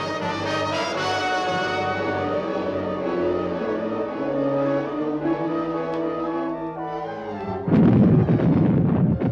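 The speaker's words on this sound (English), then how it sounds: "The Germans respond to the Allied naval gunfire with long-range artillery fire, mounted on railway cars." Low, sustained droning tones build until a single heavy, booming blast of German long-range railway-mounted artillery erupts near the end, loud and rough.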